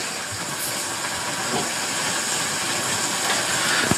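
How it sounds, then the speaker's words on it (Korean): Rice water poured into a pot of pork kimchi stew boiling in a camping cook pot, a steady broadband hiss and bubbling rush that holds fairly loud for the whole stretch, with no voices over it. "미리 준비한 쌀뜨물 넣고 있습니다"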